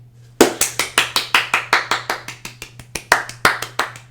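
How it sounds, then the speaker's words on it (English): Sharp, evenly spaced hand claps, about twenty in a row at a brisk rhythm, close and loud over a low steady hum, with no voices. "Claps all around."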